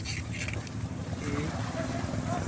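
A small outrigger boat (bangka) for island hopping at Puerto Galera sits on the water, with steady wind, water wash and engine or hull rumble filling the scene while voices murmur in the background.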